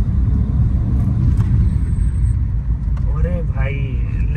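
Tuned Chevrolet Beat engine pulling hard in second gear around 3000 rpm, a loud steady low rumble from inside the car that climbs slightly in pitch near the end.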